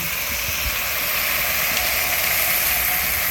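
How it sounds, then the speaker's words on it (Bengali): Fried raw plantain and potato go into sizzling spice paste in oil for a Bengali vegetarian curry with bori, giving a loud, steady hiss that fills the whole moment. "দিচ্ছি ভেজে রাখা কলা, দিচ্ছি আলু, সব কিছু ভালো করে আমি কষিয়ে নেব।"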